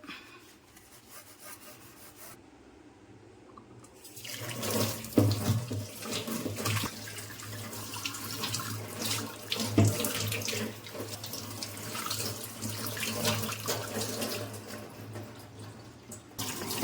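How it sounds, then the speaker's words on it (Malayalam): Fridge parts washed by hand under a running kitchen tap with liquid soap: after a quiet start, a steady loud stream of water splashes and drums into the sink, with rubbing and knocks of the parts throughout, no talking. "നല്ലപോലെ കഴുകിയെടുക്കാം"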